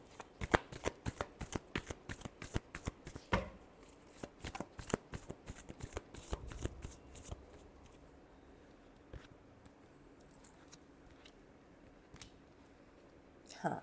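Tarot cards are shuffled in a fast run of crisp riffling snaps, followed by quieter scattered card taps and handling sounds, close and soft.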